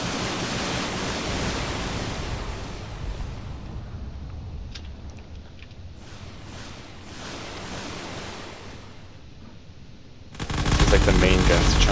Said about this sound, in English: And now a lot of very big cannons are firing at the base here.